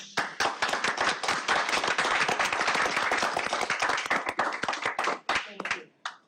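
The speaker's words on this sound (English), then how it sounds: "let us again clap for what we do for our people here" People at a county board of commissioners' meeting clap together, with loud, distinct hand claps in a quick uneven rhythm from a modest crowd, fading out near the end.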